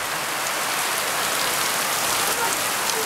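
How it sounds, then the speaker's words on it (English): Heavy West African rain pours down in a dense, unbroken roar of drops drumming on surfaces, loud and steady throughout with no gaps. "what it looks like, a real good West African rain. It's intense"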